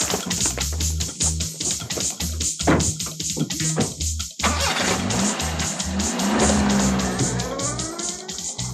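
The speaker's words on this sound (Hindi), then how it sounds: "चल बैठ गाड़ी।" A car speeds away, its engine revving hard through several gear changes, with tyres squealing near the end; loud and close throughout, with no talking over it.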